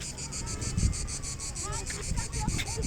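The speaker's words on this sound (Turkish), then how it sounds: "Datça'da cırcır böcekleri ötüyor bak." Crickets chirp outdoors in a park in Italy, a steady, regularly pulsing trill running continuously throughout, with light wind noise and faint background sounds beneath.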